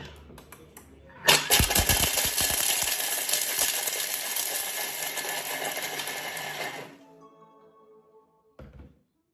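A Thermomix grating food: a sudden thunk, then a loud, dense whirring and rattling churn that holds steady for about five seconds before stopping abruptly, followed by a few faint knocks.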